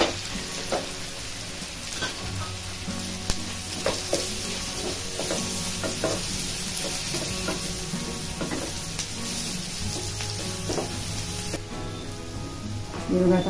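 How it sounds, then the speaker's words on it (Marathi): Onion with turmeric frying in a pan for a potato bhaji, a continuous close sizzle broken by repeated scraping and stirring strokes of a spatula, with no talking. "आता कांदा असा चांगला लाल रंगी करून भाजून घ्यायचा आहे।"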